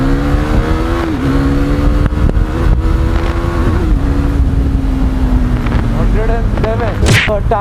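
A KTM Duke motorcycle pulls away and accelerates outdoors, its engine note climbing steadily through rising revs with a gear change partway, loud and close throughout, ending in a sharper burst of revving.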